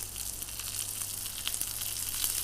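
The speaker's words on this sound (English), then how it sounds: "I'm just going to lift it up now and sear it on the side, on the fat, just to help get that fat a little bit crispy" The fatty edge of a steak sears in a hot frying pan, a steady, fairly quiet sizzle and crackle with a low hum underneath.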